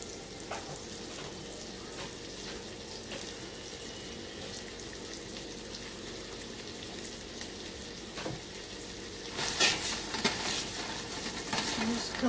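Chopped onions cook down in butter in a pan with a continuous soft sizzling hiss, and a few scattered clicks and clatters, one louder burst near the end.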